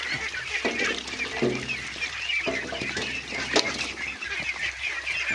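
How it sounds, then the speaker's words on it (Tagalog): Domestic ducks feeding on azolla, a flock giving loud, repeated honking quacks close by over steady splashing and dabbling noise. "Yan patuloy na kumakain talaga ng asula yung ating alang itik."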